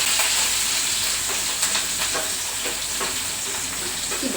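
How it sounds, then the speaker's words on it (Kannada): Onions, mustard seeds and curry leaves fry in hot oil with a loud, continuous close sizzle, crackle and occasional stirring clicks, with no talk over it. "ಇದು ಚೆನ್ನಾಗಿ ಫ್ರೈ ಮಾಡಬೇಕು ಸ್ವಲ್ಪ ಎಲ್ಲ ಹಸಿ ಸ್ಮೆಲ್ಲೆಲ್ಲ ಹೋಗೋ ಥರ"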